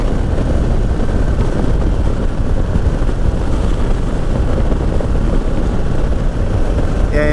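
Indian Sport Chief motorcycle engine running steadily while riding, a loud continuous low rumble blended with heavy wind rush, holding an even drone with no breaks throughout.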